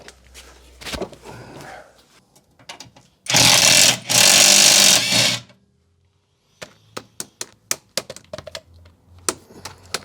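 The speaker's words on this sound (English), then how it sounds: "We're going to get a spanner on those. I think they're a 10mm by the looks of it" A spanner working on 10mm bolts on an abandoned Lotus Excel, with metallic clicks and ratcheting taps near and scattered, broken by a loud burst of harsh mechanical noise midway.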